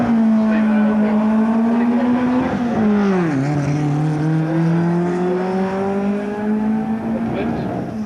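A Formula 1300 race car fitted with a Hartwell-repaired Imp engine runs at a speed trial, its engine note holding steady, dipping briefly and then climbing again. The car is loud and close, with a commentator talking over it.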